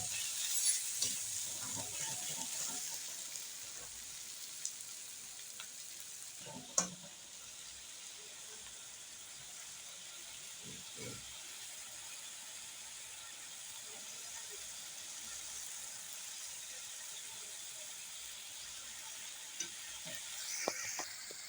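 Chilli frying with ginger and garlic in a pan for a desi-style egg curry, a soft, steady sizzle and hiss with occasional clicks of stirring throughout, fairly quiet.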